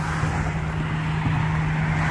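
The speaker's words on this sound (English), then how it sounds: "gets a little loud with all the traffic out there" Continuous road traffic rumbles nearby, a steady engine drone with a low hum and no clear breaks.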